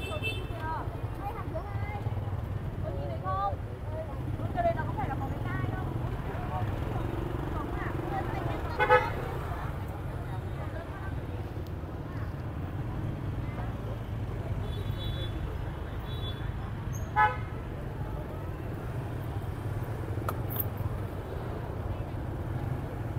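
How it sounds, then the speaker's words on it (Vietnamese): Busy street traffic near Đồng Xuân market in Hanoi's Old Quarter on a Lunar New Year eve afternoon, motorbike and car horns tooting repeatedly in short bursts over a constant engine hum, with someone talking throughout. "Còi xe vẫn inh ỏi."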